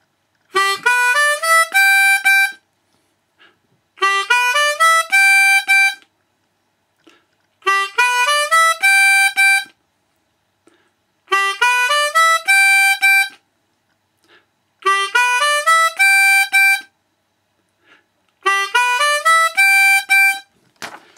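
A harmonica blows a short blues riff, six repeated phrases of rising chords, each about two seconds long with brief silences between.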